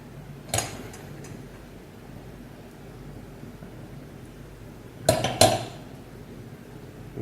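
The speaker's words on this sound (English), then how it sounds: "I'm going to give it a shake." Pan of butter caramel popcorn shaken on the stove in two brief bursts of rattling and clinking, one near the start and a louder double shake toward the end, with quiet kitchen background between.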